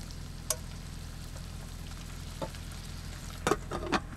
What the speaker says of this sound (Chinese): 这时候呢放进去煎了